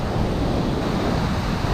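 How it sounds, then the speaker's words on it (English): Ocean waves breaking as a big set of white water rolls in, a steady close roar of surf filling the whole moment, with wind buffeting the microphone. "a lot of white water. Like big set coming in here."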